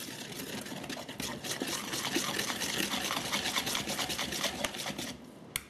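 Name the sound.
sifting dry ingredients for meat pies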